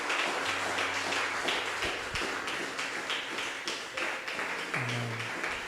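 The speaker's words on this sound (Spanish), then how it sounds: "Le damos un fuerte aplauso a nuestro Dios." A church congregation applauds at the close of a Spanish-language service, a busy wash of hand claps with some sharper individual slaps standing out and faint low tones beneath, holding steady for several seconds with no talking.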